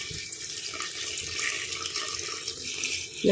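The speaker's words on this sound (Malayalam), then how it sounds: "ഇതിനകത്തേക്ക് ആവശ്യമായ വെള്ളം ഒഴിച്ചു കൊടുക്കുകയാണ്" Water pours steadily into a pot of jackfruit seeds for payasam, making a continuous, close rushing splash that lasts the whole stretch.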